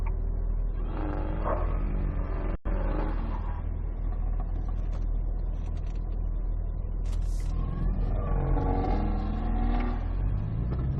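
A car's engine revs and drones through an autocross practice run, rising and falling with throttle, steady and fairly close for the whole stretch with only faint traces of speech.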